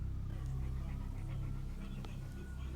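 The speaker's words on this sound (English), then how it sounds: "their dog suddenly starts to have a minor freak out." A dog pants and whimpers softly amid low household background sound, faint and close, with a voice murmuring underneath.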